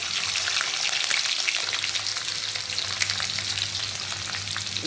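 Cumin seeds and finely chopped garlic fry in hot oil in a kadhai for a Marathi leafy-greens bhaji, giving a steady, dense, close sizzle that crackles evenly throughout with no voices.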